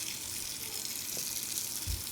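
Warm water runs steadily from a tap during a hair wash at a salon basin, a continuous close hiss with no talking.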